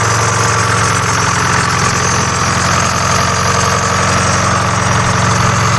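A 1995 Suburban with a swapped two-stroke engine runs with a loud, dense, continuous buzzing rumble, close up and unbroken throughout.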